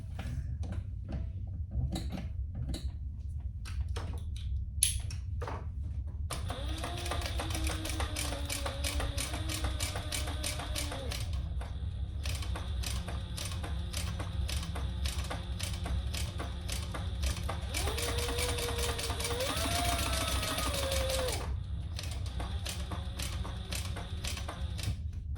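A domestic sewing machine stitches a crossbody bag seam in two runs of rapid, even mechanical ticking with a whining motor, after a quieter start of scattered clicks.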